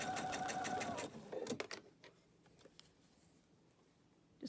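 A sewing machine stitching a quilt block runs in a fast, steady burst of needle taps, then stops, followed by a few faint clicks and handling sounds in a quiet room.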